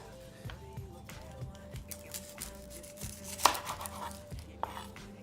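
A kitchen knife thuds through an onion onto a cutting board in a string of soft, irregular taps, with background kitchen clatter and quiet talk.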